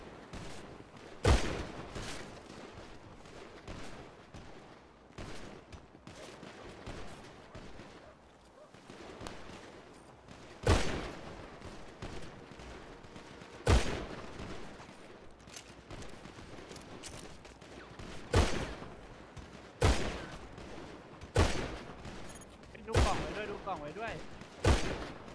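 Gunfire in GTA rings out as repeated sharp shots every few seconds over a constant noisy game background, moderately loud, with voices chattering underneath.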